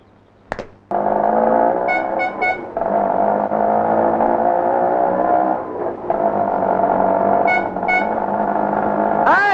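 A vehicle engine runs loud and close with a steady, rich droning hum that dips briefly partway through, while a few short high beeping tones sound over it, with no talking.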